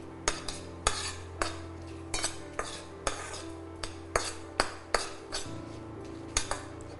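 Whole spices, including cinnamon, clove and cardamom, are dry-roasted in a pan and stirred with a metal spoon, producing steady clinks and scrapes every half second or so over a low hum, with no talking.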